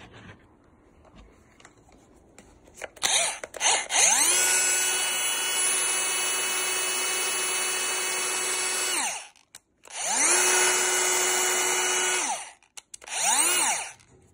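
A Bosch GBH 180-LI cordless rotary hammer drill whines loudly in a steady high-pitched run during a test. It spins up, runs for about five seconds, pauses briefly, then gives two shorter bursts, with no talking.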